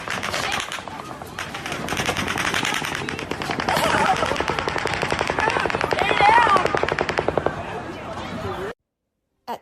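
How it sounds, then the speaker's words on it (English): Sustained volley of automatic gunfire at an outdoor concert event, rapid continuous bursts lasting several seconds, loud but somewhat distant, ending abruptly. "the third volley of automatic gunfire begins"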